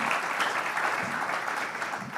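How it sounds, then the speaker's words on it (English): Audience applause following a conference panel at an Italian–German business forum plenary session, steady and dense clapping filling the whole stretch at a moderate distance, with no talk over it. "join me in an applause for this very, very interesting panel"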